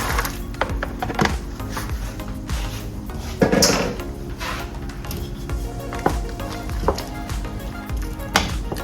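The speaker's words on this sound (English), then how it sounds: "this is where you're going to add your red beans" Red beans going into a pot that has been boiling for 30 minutes for red beans and rice: a loud, steady rush of noise broken by sharp knocks and clatters, close by, with no talking.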